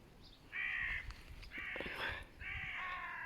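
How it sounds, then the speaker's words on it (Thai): Crows in a backyard apple orchard give three hoarse, rasping caws that come at a fairly faint distance and are spaced about a second apart against a quiet outdoor background. "อีการ้องตกใจหมด"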